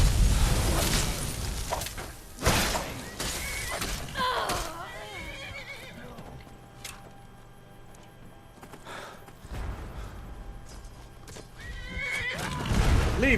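The horse Shadowmere under attack in Skyrim, loud neighs and whinnies with clip-clop hoof sounds, explosive bursts and combat noise, someone talking over much of it.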